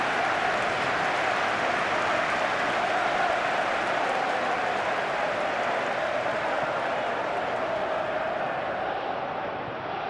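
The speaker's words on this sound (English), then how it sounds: "but it certainly got the crowd going" A simulated stadium crowd in the PES 21 football video game roars in a steady, dense wash of cheering and applause during a Chelsea versus Arsenal match, constant and loud, fading slightly toward the end.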